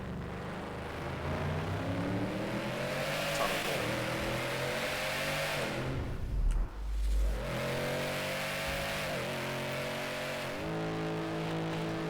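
A 2024 Ford Mustang S650 with a Gen 4 Coyote V8 accelerates hard through the gears, its engine roaring loudly with rising pitch, one brief gear-change dip, then pulling again, heard from inside without talk.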